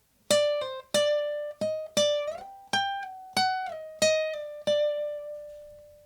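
Electric guitar plays the second half of the solo section of a song: about nine clearly picked, sustained notes with a few slides and bends between pitches, a clean ringing tone heard alone and up close.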